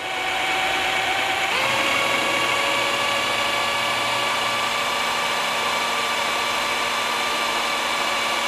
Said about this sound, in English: drill the head off from it, be done with it